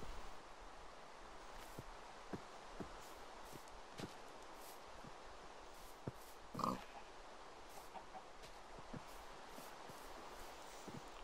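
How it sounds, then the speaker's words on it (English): Pigs crowd a pen, giving scattered short oinks and grunts at irregular intervals amid rustling and shuffling, with one louder squeal near the middle. "One at a time. You stupid pigs."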